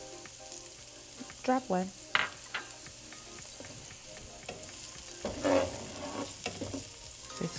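Mushrooms frying in a pan with other vegetables sizzle steadily while a utensil scrapes and stirs in bursts, with a brief spoken remark.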